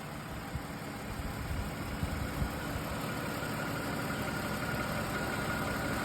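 A Lexus engine idles quietly and evenly, a low, steady hum with faint mechanical ticking and no voices.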